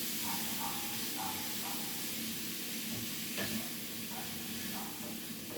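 Ground beef browns in a pan for Puerto Rican empanadas, a steady close sizzle and hiss of frying meat with faint scraping and stirring, no talking heard.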